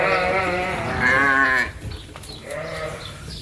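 A ewe bleats loudly and close, one long wavering call followed by a shorter second bleat, as she is unloaded into a field with replacement ewe lambs.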